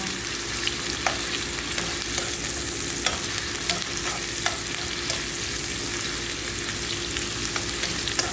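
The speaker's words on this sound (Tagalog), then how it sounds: "Yan, igisa lang, walang bawang eh. Sibuyas lang, luya." Onion and ginger sauté in a pan with a continuous, dense sizzle, close and steady, broken by occasional light taps and scrapes of stirring.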